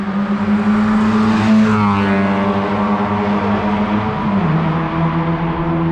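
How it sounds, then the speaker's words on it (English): A modified Maruti Baleno RS drives on a race track, its engine a loud, sustained drone that swells and holds close by, with a slight pitch dip near the end as it passes or shifts. "And we have the Baleno RS coming in now."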